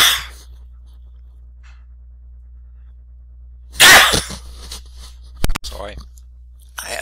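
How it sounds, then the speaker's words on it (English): A single abrupt, forceful sneeze bursts out of near-silence, followed by a few short breathy sounds and clicks, close to the microphone in a quiet room with a low steady hum. "I had to sneeze and I couldn't get it out that I had to sneeze in time."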